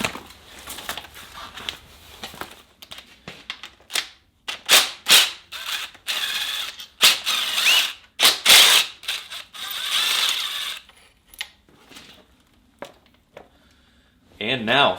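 A hand ratchet clicks in quick bursts while loosening bolts to take the handlebars off a motorcycle, the sharp metallic ratcheting coming in irregular spurts with a person talking in between.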